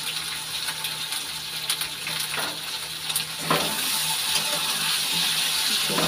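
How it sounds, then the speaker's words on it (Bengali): Curry frying with cumin, green chilli and tomato paste gives off a continuous close sizzle and hiss that swells louder partway through, with faint stirring and no talk. "তরকারিটা ভাজা ভাজা হয়ে গেছে।"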